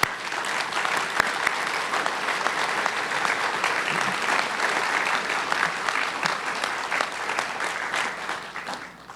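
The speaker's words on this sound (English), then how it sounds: "Please join me in giving them a round of applause" Sustained round of applause from a crowd at a hotel grand opening ceremony, honouring a donor family; dense, even clapping fills the whole stretch at steady loudness.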